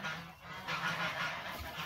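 Turkeys call from inside their new coop, giving a fairly continuous, honking and gobbling chorus at moderate distance with no one talking.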